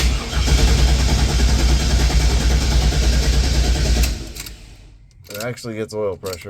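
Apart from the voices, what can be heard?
Chevelle LS swap engine running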